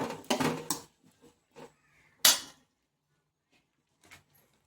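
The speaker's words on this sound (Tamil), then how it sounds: "அதில் அவிச்சு வச்சுருக்க சேப்பங்க சேர்த்துட்டு கிளறி விட்டுருங்க" Boiled taro pieces being stirred in a pan, with sharp metallic clanks of a spoon against the pan in a few scattered bursts separated by quiet gaps.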